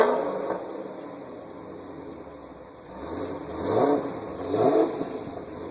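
A Dodge Super Bee's engine idles with an uneven, lopey rumble, then rises in two short revs before settling, heard from nearby and quiet overall with no talking.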